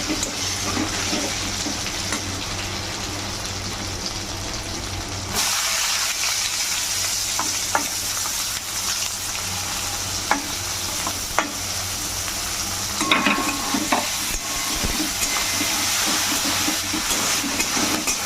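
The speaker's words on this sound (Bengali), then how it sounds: "এর মধ্যে পেঁয়াজ কুচিগুলো দিয়ে দিচ্ছি" Chopped onions dropped into hot oil with tempered spices, the sizzle jumping louder as they go in, followed by a steady hiss with scattered spatula scrapes and clicks as they are stirred.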